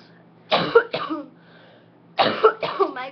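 Two close bursts of coughing, each a quick cluster of harsh coughs, separated by a short quiet pause.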